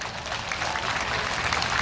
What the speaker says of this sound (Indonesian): Tepuk tangan untuk muslimat.